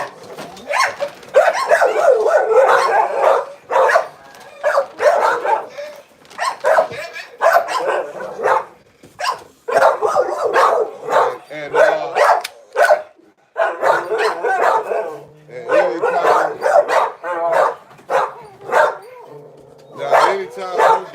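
Several dogs in a pack bark and yip excitedly at feeding time as the food bowl comes out, with bursts of barking mixed with someone talking over them throughout.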